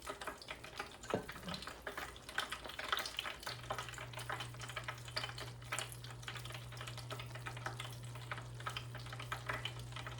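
Homemade salmon balls fry in a pot of hot oil, a steady crackling sizzle with bubbling throughout, plus a brief clunk near the start and a low hum joining partway.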